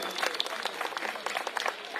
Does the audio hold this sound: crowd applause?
yes